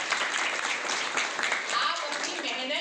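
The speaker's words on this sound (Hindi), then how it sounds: "ताली बजाओ इसके लिए।" Schoolchildren clap together in a room, a steady burst of applause running throughout at moderate volume.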